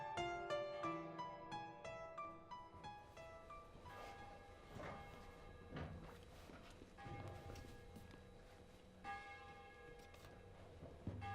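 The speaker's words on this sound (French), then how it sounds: "On entend encore la cloche sonner au-delà du lac." A church bell rings out from beyond a lake, its tolling strokes overlapping in a sustained, resonant peal that carries steadily for about eleven seconds at a moderate distance.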